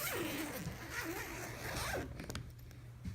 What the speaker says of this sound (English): let's flip this back and unzip this again